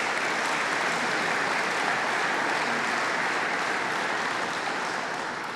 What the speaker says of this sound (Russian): вам аплодисменты